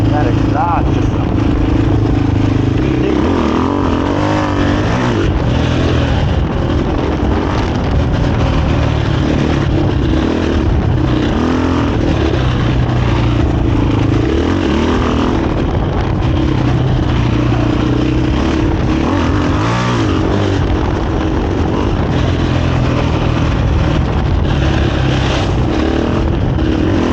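A 2023 KTM 500 EXC-F dirt bike fitted with a Graves exhaust and aftermarket ECU runs steadily for the whole stretch with a loud, continuous engine drone. Voices talk over the engine at close range.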